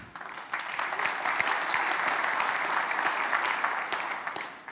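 Audience at the JNUC 2015 conference gives a steady burst of applause during a talk on OS X security, lasting several seconds at an even level before easing off.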